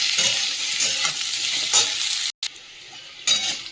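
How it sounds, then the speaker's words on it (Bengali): Boiled potato, radish and cauliflower hit hot oil seasoned with five-spice, giving a loud, close sizzle with stirring scrapes that swell and ease, then resume after a brief cut. "এবারে সেদ্ধ করে রেখা আলু মূলো ফুলকপিটা দিয়ে"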